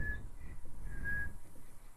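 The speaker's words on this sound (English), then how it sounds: "I'm trying to learn how to whistle." A character in The Last of Us tries to whistle, producing two thin, wavering whistle tones, a short one and then a longer, steadier one, over a low rumbling game backdrop with no speech.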